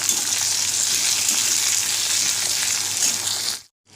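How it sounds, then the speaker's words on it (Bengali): Tomatoes, garlic, ginger and coriander stems fry together in a pan while being stirred, with a steady close hiss and sizzle that cuts off abruptly to silence just before the end. "সমস্ত কিছু একসাথে দিয়ে আমি এবার এটাকে নাড়া দিতে থাকবো"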